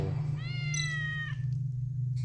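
William the cat meows in Tales of the Neon Sea, a single drawn-out, rising-then-falling meow over a steady low hum, with a faint second mew trailing off at the end.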